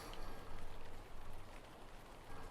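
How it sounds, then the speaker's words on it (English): Steady rain falls in the fantasy video game Lord of the Rings Online, a continuous even hiss of drops on surfaces with no talking. "It's a little rainy here right now."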